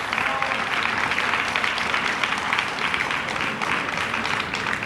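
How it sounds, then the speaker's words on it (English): Audience applause at a high school Black History Month 2022 assembly, dense even clapping filling the hall, sustained and fairly loud from start to finish. "We can give him a round of applause for coming and doing this."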